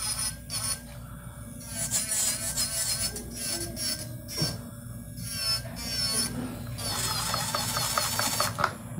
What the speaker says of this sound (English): I'm just gonna gently use my drill bit to clear up all that scratch marks.